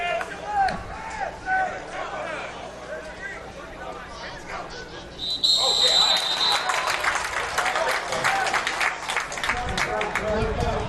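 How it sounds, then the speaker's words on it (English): Home crowd at a college football game between Golden West and San Diego Mesa claps, faint at first under talk, then a louder burst of steady clapping and crowd noise fills the second half. "The home crowd was clapping."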